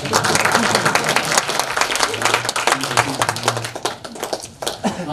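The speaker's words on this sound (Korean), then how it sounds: "이 정도 되면 뭐 박수 한번 놔주면" An audience at a talk by a girls' high school teacher breaks into applause, a dense crowd of hand claps that holds steady before tapering slightly, with a low voice murmuring underneath.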